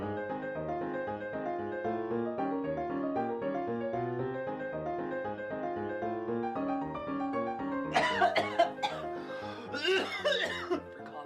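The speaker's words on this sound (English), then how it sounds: "after a good, solid coughing fit" Music plays steadily, then near the end a few harsh coughs burst out over it in two short clusters.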